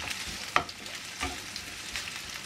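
Onion frying in a pan for a home-style chicken curry, with a steady broadband sizzle and a few louder crackles and stirring scrapes, close and without talk.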